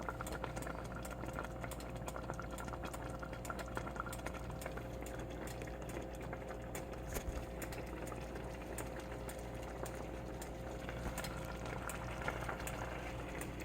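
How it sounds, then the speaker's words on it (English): Water heats in a pot on a home stove for sausage, butter-herb rice and mixed vegetables, giving off a continuous low rumbling bubble with faint irregular pops and ticks, steady and close, with no talking. "Okay, it's starting to boil."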